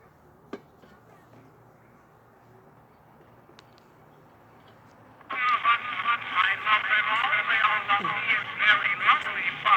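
Old recording of singing played back over a phone-like speaker, starting abruptly midway after near-silence, a steady, moderately loud band of tinny vocal sound with an uneven, skipping texture.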